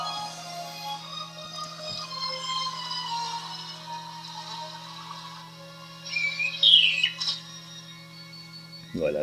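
Bright bird chirps play from a Doogee X9 Pro smartphone's speaker over a faint, steady hum, with a short burst of louder tweets near the end.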